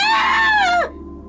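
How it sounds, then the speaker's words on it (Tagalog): A woman's scream rings out in an aswang horror tale, a single long high wail lasting under a second that slides downward and cuts off, leaving a low hum; it sounds close and loud rather than distant. "isang sigaw ang kanyang narinig"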